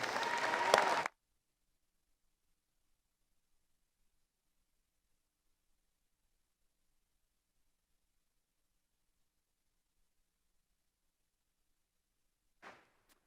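A short burst of clapping for the graduates at a virtual winter commencement ceremony, lasting about a second before dead silence, with a faint trace near the end.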